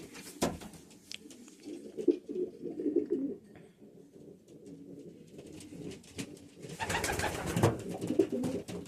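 Soft, low cooing of several pigeons in a breeding loft, continuous and overlapping at close range, with a brief burst of brighter rustling and flapping near the end.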